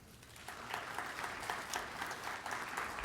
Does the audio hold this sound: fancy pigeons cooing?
no